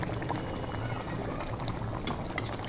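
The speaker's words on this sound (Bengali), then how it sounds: "তরকারিতে বলক চলে এসেছে," Rohu fish curry with eggs boils in a pot, producing a continuous close bubbling and gurgling at an even level throughout.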